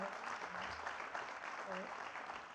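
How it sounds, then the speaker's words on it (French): At a conference on eliminating violence, the audience applauds the round-table speakers with a faint, steady wash of clapping throughout, and voices murmur beneath it. "On veut les applaudir pour leur travail au quotidien."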